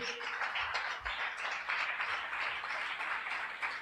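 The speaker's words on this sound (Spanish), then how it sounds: "Denle un aplauso a Jesús" Steady applause from a church congregation at an Easter Sunday service, many hands clapping in a continuous, moderately distant wash that stays even throughout with no voices on top.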